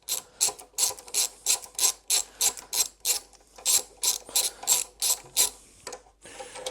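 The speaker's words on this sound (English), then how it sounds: "we'll start removing this side brake caliper" A hand ratchet clicks in quick, even strokes close by while loosening the long brake caliper bolts on a Suzuki M109R motorcycle, about twenty bursts of ratcheting with a short pause near the end.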